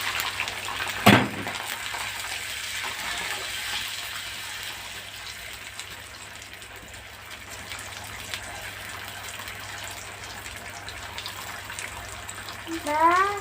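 Water is poured into a hot pan of garlic and tomato paste for pizza sauce, giving a brief gush and splash followed by a soft sizzle and low simmering.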